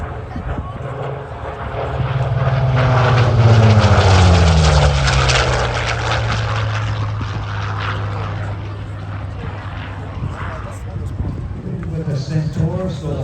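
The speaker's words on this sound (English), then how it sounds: "ready for the two fastest aeroplanes you'll ever see" Piston-engine aeroplanes flying past at the Central Coast Airshow in Warnervale, a loud propeller drone that rises and falls in pitch as they pass, then fades while an announcer keeps talking over it.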